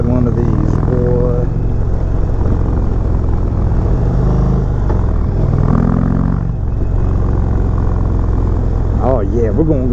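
A 2020 Indian Chieftain Limited motorcycle engine runs steadily on a demo ride, a loud low rumble with rising revs near the end, under someone talking over it.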